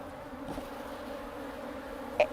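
Honeybees buzz steadily at an open hive, a close, continuous droning hum that holds level throughout, broken near the end by one brief sharper tap or click.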